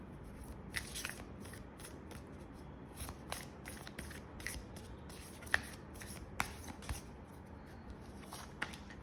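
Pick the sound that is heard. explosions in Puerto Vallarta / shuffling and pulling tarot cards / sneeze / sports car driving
shuffling and pulling tarot cards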